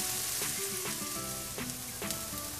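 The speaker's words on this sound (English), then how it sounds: "I sauteed this onion until it gets softer" Chopped onion sautéing in a hot pan while being softened for potato kheema cutlets, giving a steady, close hiss and crackle with a few soft stirring scrapes and no talking.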